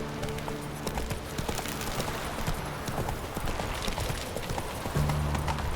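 Hooves of a galloping horse pound steadily in The Witcher 3, a dense continuous clip-clop rhythm under loud game ambience and music, with no talking.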